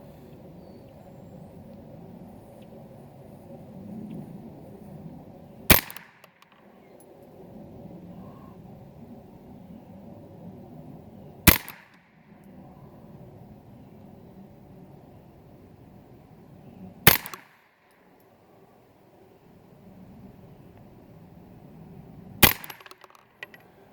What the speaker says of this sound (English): If you like shooting wacky wafers at 100 yards with a 22 rifle, this is the stuff to use